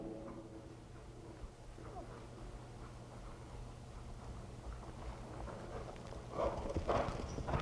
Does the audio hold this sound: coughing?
no